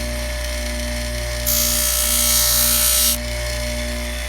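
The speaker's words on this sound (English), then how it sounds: "just kind of smoothing it off a little bit, and you'll do both sides of it" A single steady high-pitched whir, like a rotary tool or sander, smooths the edge of a leather belt for about two seconds over a constant low hum.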